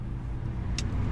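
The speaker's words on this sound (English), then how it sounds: "since the car is on and running" A 2019/2020 Jeep Cherokee crossover idles with its engine running, giving a steady, close low rumble that holds even throughout, with a brief hiss-like click near the end.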